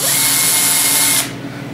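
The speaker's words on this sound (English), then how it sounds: "So I'm just going to drill in a little bit" Power drill boring into wood, a loud high steady whine that cuts off sharply near the end, leaving a quieter tail.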